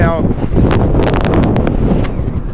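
Strong wind on a cold, rainy early morning buffets the microphone in steady, rough gusts that fill the whole clip with loud, close rumbling noise.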